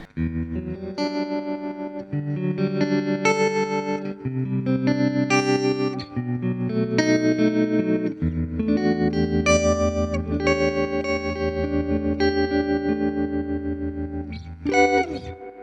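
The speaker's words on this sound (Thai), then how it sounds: "เหยียบปุ๊บ มันก็จะกลายเป็นไวบราโตแล้ว" Clean electric guitar through a Fender Twin Reverb amp with its vibrato switched on, a series of strummed and picked chords with a pulsing, wavering tone, played loud and alone for about fifteen seconds.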